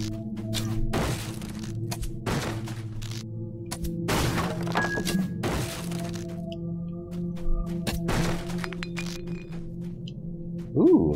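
Wooden crates are smashed inside a dungeon in the DDO video game, with a series of sharp cracking thuds spaced a second or two apart over a steady low game ambience.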